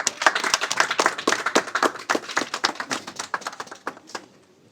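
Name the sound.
audience applause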